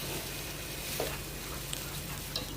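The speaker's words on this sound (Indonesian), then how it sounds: "Kita goreng sampai bumbunya itu meresap sama dagingnya." Beef pieces fry in a pan with cooked spice paste, giving a steady close sizzle and crackle throughout, with a few faint stirring clinks and no talk.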